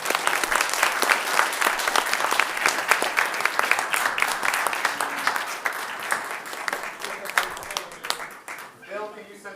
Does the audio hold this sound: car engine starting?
no